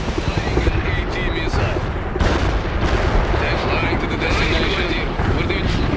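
Artillery fire support pounds a defended camp in World in Conflict, rumbling blasts and gunfire rolling continuously under a commanding voice giving orders.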